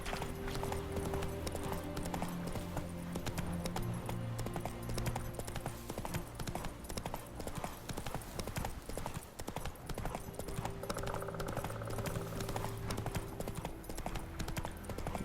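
Roach the horse gallops in The Witcher 3: Wild Hunt, a fast, steady clip-clop of hooves running throughout over a game music bed, with a brief neigh.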